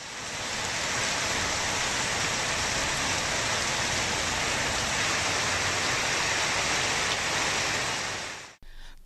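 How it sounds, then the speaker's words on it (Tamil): Heavy summer rain in Tamil Nadu falls in a dense, even hiss with no break, loud and constant until it cuts off abruptly at the end. "இடி மின்னலுடன் கனமழை பெய்தது"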